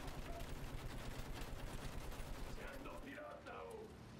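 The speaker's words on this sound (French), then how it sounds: "je suis à la tête d'une tourelle latérale, donc qui peut tirer autant des obus que de passer en mode mitrailleuse" In Battlefield 1, a tank's side turret lays down continuous rattling machine-gun fire and shell blasts, a dense, loud barrage throughout, with a voice talking faintly over the end.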